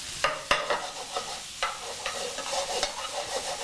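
Pieces of food stirred and fried in a pan with coconut milk and spices for a New Orleans dish, with a steady sizzle broken by several sharp scrapes and clatters of the utensil.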